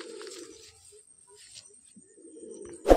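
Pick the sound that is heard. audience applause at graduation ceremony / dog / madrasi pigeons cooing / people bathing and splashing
madrasi pigeons cooing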